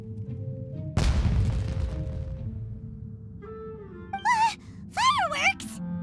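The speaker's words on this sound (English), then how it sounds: "It sounded like fireworks." Fireworks in the video game Genshin Impact: a single sharp boom bursts out and crackles away into a fading rumble, followed by sustained game music and short bright melodic tones.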